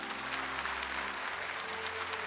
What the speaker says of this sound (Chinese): 再次掌声欢迎